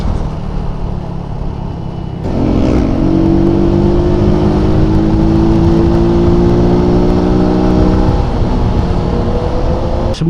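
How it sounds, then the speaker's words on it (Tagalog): A motorcycle engine fresh from an oil change runs loud and close, with a smooth steady drone that rises as it speeds up after a couple of seconds and then holds an even hum. "Smooth na smooth ang makina natin ngayon."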